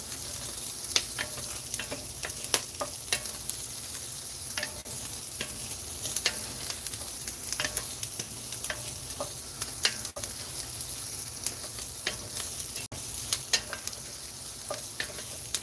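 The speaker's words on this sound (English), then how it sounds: "Keep stirring this" Rice cooks in a Dutch oven under a steady sizzle while a utensil stirs it, adding repeated soft scrapes and taps at close range throughout, with no voices.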